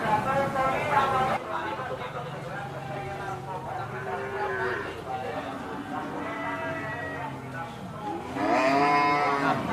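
Cattle lowing in a long, drawn-out moo while a cow's chest girth is measured with raffia twine, repeated moos close by with a louder call near the end, under speech.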